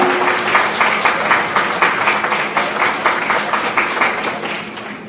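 An audience at an annual law lecture gives a rank holder a round of applause. The clapping is steady and evenly pulsed, moderately loud, and tapers slightly toward the end.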